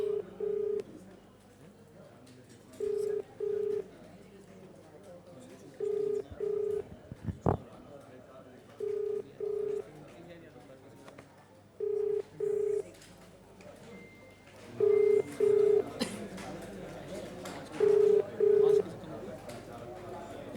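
A phone number is keyed in with a run of paired touch-tone beeps at regular intervals, then the call rings out in repeated tone bursts, with someone talking quietly between them.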